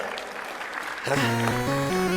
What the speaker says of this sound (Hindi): राम कुमार लखा जी के लिए एक बार जोरदार ताली बजा दो भाई